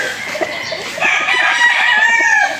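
A bull stag gamefowl rooster gives one loud, close crow that rises and holds for about two seconds, with no other sounds around it.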